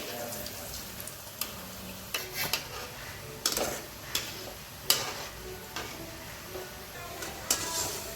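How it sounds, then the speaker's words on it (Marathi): Semolina and bread gulab jamun fry in hot oil in a kadhai over a low flame, giving a steady soft sizzle broken by scattered ticks and light clinks of a spoon against the pan. "अशा प्रकारे आपल्याला न तळून घ्यायचे बारीक गॅसवर तळून घ्यायचे"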